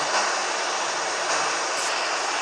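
Aircraft engine in the video game SimplePlanes as the throttle is eased down, a loud, steady jet-like roar that holds nearly constant with only slight shifts in tone.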